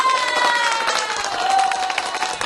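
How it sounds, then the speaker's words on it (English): Audience applause and cheering sound effect played on a live stream, a dense, steady wash of clapping and crowd noise running loud and continuous for a couple of seconds with no talk over it. "I can give the audience applause"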